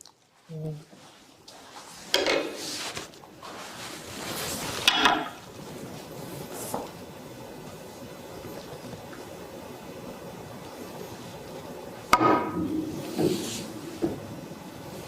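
A three-cushion billiard shot played without spin: a cue strikes the ball, followed by several sharp clicks of balls colliding and cushion hits, quiet and spaced out in a room with people talking.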